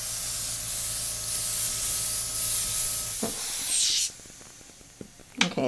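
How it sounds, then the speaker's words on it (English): An airbrush sprays acrylic paint thinned with water in a steady close hiss for about three seconds, then sputters in short bursts and stops, leaving quieter room noise with a few brief hissy puffs. "I am just going to lightly airbrush over this"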